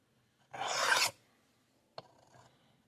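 One close, loud rasping stroke of a knife blade across a sharpening stone on a Work Sharp guided sharpening system, then a brief scrape and a fainter short stroke after a pause.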